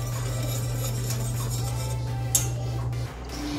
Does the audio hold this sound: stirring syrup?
yes